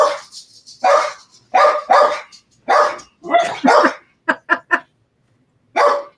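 Several dogs bark excitedly at a house door in bursts of loud, close barks, with a quick run of sharp yips near the end and short pauses between volleys.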